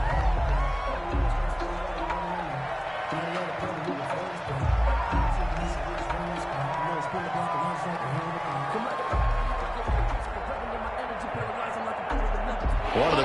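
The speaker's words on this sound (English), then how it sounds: "The crowd getting into it as we come up on a big third down" A virtual stadium crowd in a PS4 football video game roars steadily at moderate loudness, swelling slightly before a big third down. Game sound effects and commentary-style talk run over it.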